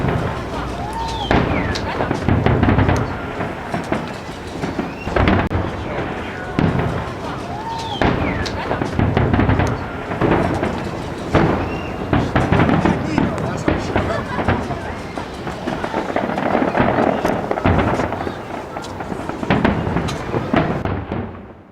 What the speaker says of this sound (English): later that night we watched a huge fireworks display.